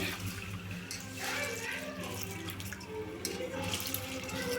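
Water sloshes and splashes close by as basmati rice is swirled and rubbed in a bowl, a steady wet churning with no pauses.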